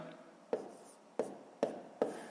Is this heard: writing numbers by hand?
yes